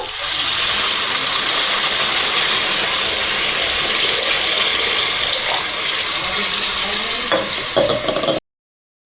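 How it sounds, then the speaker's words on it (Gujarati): Water pours steadily into a hot pan of mango and bottle gourd curry with red chilli, a loud continuous hissing gush that cuts off abruptly at the end. "તો હવે આપણે તેમાં પાણી નાખી દઈશું"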